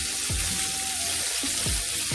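Country style pork ribs deep frying in hot oil, a steady broad sizzle and bubbling throughout with faint low clunks, fairly close and without talk.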